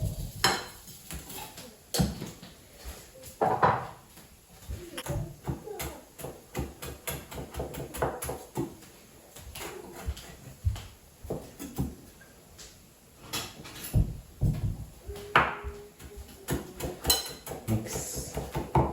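Kitchen knife chopping a bunch of fresh coriander on a cutting board while making a prawn taco salsa: a dense series of quick, close, sharp taps and clacks in an uneven rhythm, with occasional dish and utensil clatter and no talk.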